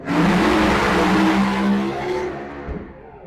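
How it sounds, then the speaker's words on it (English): A drag racing car roars loudly past at the Texas Motorplex, its engine revving hard and then fading as it pulls away down the strip. "obviously cars are running behind us"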